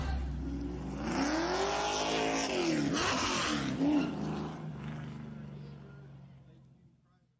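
Street stock race cars roar around Charlotte Motor Speedway, a loud wall of revving engines that swells and sweeps as the pack passes close, then fades away toward the end.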